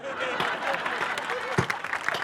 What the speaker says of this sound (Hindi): तालियां जरा मिलकर बजा दो एक बार।